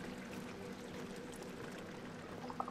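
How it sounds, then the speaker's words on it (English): Shower water runs steadily in the video game Amnesia: The Dark Descent, a constant even hiss of spray with no voices over it. "I can take a shower."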